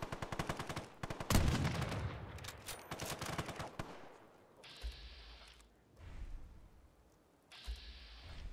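Fallout 4 video game gunfire with rapid bursts of automatic shots, one heavier blast, and a cluster of sharp reports. After that come quieter stretches with intermittent mechanical whirring.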